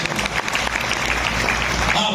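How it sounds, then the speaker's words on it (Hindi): Dense audience applause at a seminar gathering, a continuous crowded clatter of clapping hands with a low rumble underneath, steady and fairly loud over the whole stretch. "एक बार आप सब लोग ताली बजाएंगे"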